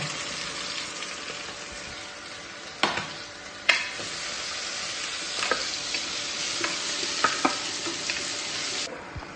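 Chopped onions hiss and sizzle loudly in a pan alongside green chillies and curry leaves for a vegetable kurma, with a steady frying roar broken by sharp scrapes and knocks of stirring.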